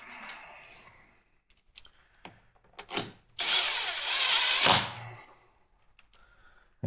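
Power tool running bolts into the cam plate of a Harley-Davidson Milwaukee-Eight engine, a few scattered clicks and taps followed by a sustained whirring burst of about a second and a half, close and alone.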